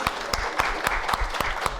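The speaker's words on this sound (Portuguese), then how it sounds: "E, então, peço aí uma salva de palmas para nós todos, para a Elaine." Brief applause for a university lecture speaker comes as a small group's distinct, sharp claps in an uneven rhythm, moderately loud and close, with no talking over it.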